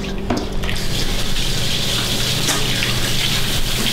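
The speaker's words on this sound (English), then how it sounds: "I'm gonna wash my hands" Tap water runs steadily into a sink while someone washes their hands in a home kitchen during gibanica baking, a continuous close gushing stream with no talk over it.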